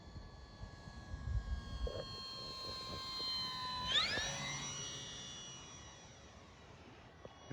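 A radio-controlled model warbird, a Freewing PJ50 or an E-flite 1.2m Corsair, flies overhead with a faint electric motor whine that rises sharply in pitch partway through and then settles at a steady tone.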